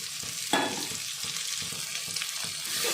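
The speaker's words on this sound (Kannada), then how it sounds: "ಈ ಒಗ್ಗರಣೆಗೆ ಮಂಡ ಕಾಳು ಸುರಿತಿದ್ದೀನಿ" Steady sizzling of horse gram seeds frying in hot tempering oil, with a sharp crackle near the start and faint stirring scrapes, close and continuous.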